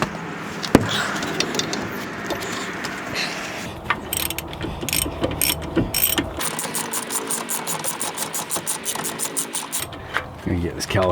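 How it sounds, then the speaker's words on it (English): A hand ratchet loosens 19 millimeter bolts while a manual transmission is dropped at home: close, rapid clicking in repeated bursts over metallic clunks and shop noise, with someone talking. "next I'm going to pull out these 2 bolts here."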